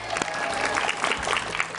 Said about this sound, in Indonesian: terima kasih tepuk tangan buat Pak Eka